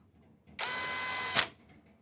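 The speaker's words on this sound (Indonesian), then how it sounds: "Saya menggunakan impact ini kebetulan." An impact wrench fires one short, loud buzzing burst, just under a second long, to tighten bolts on the CVT of a Honda Beat scooter, with quiet before and after.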